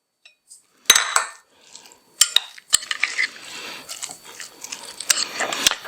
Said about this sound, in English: I've got a 1/3 cup of butter melted, which we are going to add and mix in there